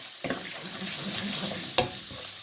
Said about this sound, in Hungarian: Gyönyörű szépen sül ki a szalonnánk